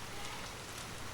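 Steady rain falls in a continuous, even hiss at low volume with no break, and no voices are heard.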